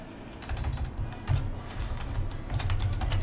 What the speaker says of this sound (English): Yes, typing noise.